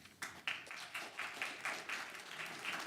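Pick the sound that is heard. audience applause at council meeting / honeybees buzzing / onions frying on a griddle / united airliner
audience applause at council meeting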